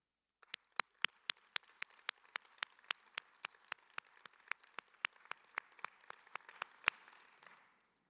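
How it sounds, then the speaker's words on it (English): Applause at a scientific conference's closing ceremony: sharp, rhythmic claps, roughly three per second, close and distinct over a faint crowd wash, ending abruptly after about seven seconds. "please stand up and let's give you a round of applause."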